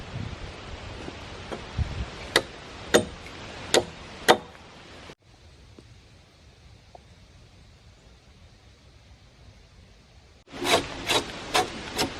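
Bark being peeled off logs for a log cabin build, sharp rasping scrapes that come in a regular series of strokes, then a quiet pause, then another quick burst of scraping close to the microphone.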